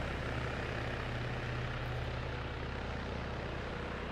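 Helicopter flying in the Arma 3 game through turbulence, a loud, dense, steady rotor and engine roar that fills the whole stretch evenly, with no talking.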